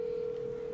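A phone call ringing on the line, a steady continuous electronic tone held at one pitch, moderately faint and heard on its own.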